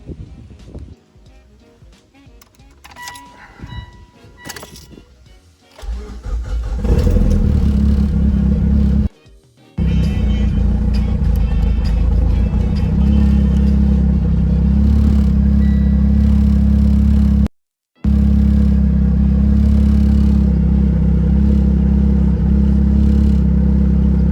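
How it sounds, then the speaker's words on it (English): A car engine fitted with new starter and injector relays, after an alternator fault: quiet clatter and handling, then the engine cranks and catches about five seconds in and runs loud and steady, cut twice by brief silent gaps. "So let's go ahead and start the car. See how it runs with these new relays in there."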